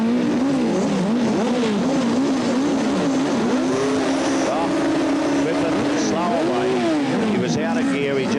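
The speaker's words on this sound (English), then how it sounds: "Trelaor leading away here from Clark, followed by Hughes as they come out of the corner" Speedway sidecar motorcycles racing out of a corner at an Australian track in the 1980s, engines howling with rising and falling pitch as they accelerate, loud and continuous with commentary running over them.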